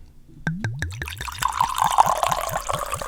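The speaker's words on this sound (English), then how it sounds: "Time for the pour." Tequila glugs out of a bottle in a quick run of rhythmic pulses that rise in pitch as the liquid pours, close and clear, with no talking.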